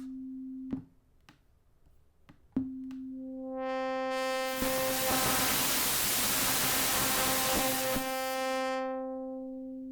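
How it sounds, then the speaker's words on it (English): A steady tone with clicks gives way to an audio feedback loop: a loud, swelling wash of noise and stacked ringing tones, a dense howling buildup that then fades. "Let's do a feedback too and see what it sounds like with a feedback."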